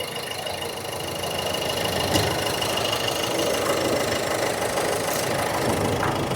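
A 2016 Ford Fiesta diesel engine idles steadily at close range, a continuous low rumble with a faint rhythmic knock and no voices.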